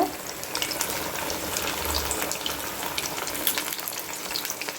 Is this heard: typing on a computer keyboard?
no